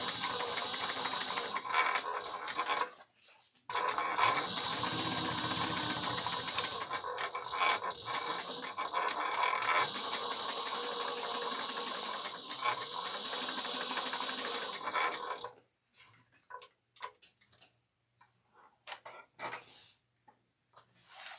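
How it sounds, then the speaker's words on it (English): A sewing machine stitches a bag seam in a steady, fast mechanical whir for about fifteen seconds with one short pause, then stops, leaving faint clicks and handling noises. "We're gonna sew the 3/8 of an inch and then top stitch at 1/8"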